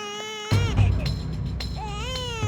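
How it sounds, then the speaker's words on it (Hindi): A small baby cries loudly and close by, a sustained, wavering wail that breaks into sobbing bursts and rises again, with nearly continuous crying throughout. "नहीं, सच में ये किसी छोटे बच्चे की रोने की आवाज है।"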